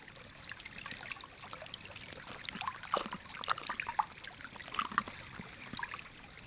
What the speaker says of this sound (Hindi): चलो, फिर भी ये छोटी सी नदी तो है और अभी तक कुछ पानी भी बाकी है।